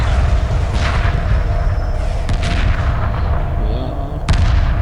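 Bombers in the space strategy game Homeworld Remastered fire on a huge alien ship, loud continuous booming and cannon-like blasts layered with sharp bursts, a dense battle roar with no talk.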